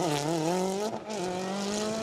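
A Ford Fiesta WRC rally car engine roars loudly at high revs on a rally stage at Anglesey, pitch climbing and dipping briefly as it shifts, then revving on strongly.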